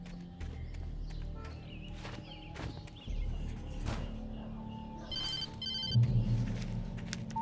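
A telephone rings in the video game Alan Wake, with bright repeated ring bursts around the midpoint heard over a low, rumbling game soundscape and scattered thumps.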